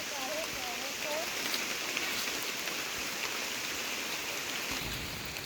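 Steady rain patters down outdoors in a rural setting, a constant soft hiss of drops on surfaces heard close and even throughout, with a faint brief voice-like sound near the start.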